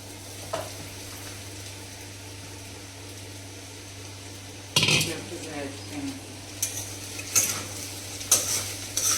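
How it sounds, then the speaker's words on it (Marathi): A spoon stirs sabudana khichdi with potato in a pan over low heat, making soft scraping and clinking against the metal under a faint sizzle, with a few sharper knocks and scrapes toward the end. "आता आपण याच्यात साबुदाणा टाकायचे आहे. तो आता मी साबुदाणा टाकत आहे. थोडेसे हलवून घ्यायचे."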